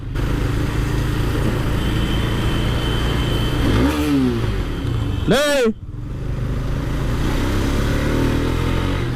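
A motorcycle engine revs in busy Bangalore traffic, with two rising-and-falling sweeps as the bike passes close by, heard over a steady roar of surrounding road noise.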